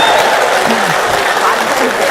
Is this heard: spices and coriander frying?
no